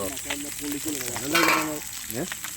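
Fish frying in oil at a riverside sizzles continuously up close, with brief talk over the crackle.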